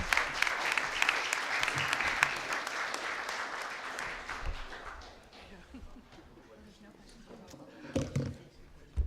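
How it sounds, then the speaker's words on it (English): An audience at a scooter summit applauds panelists, strong clapping that fades after a few seconds, leaving quieter room noise with scattered claps and murmured voices. "Let's give a round of applause for our panelists"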